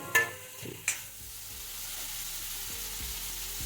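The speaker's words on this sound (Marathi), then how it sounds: "आणि आता हे आपण टमाटा शिजायला ठेवू" Chopped tomatoes, onions and green chillies for paneer bhurji frying in a pan: a steady low sizzle, with two brief louder splashes near the start as the pieces drop into the hot oil.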